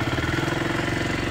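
A KTM RC 125 motorcycle engine on its stock exhaust runs in a steady, low rhythmic idle, close and moderately loud, with no voices.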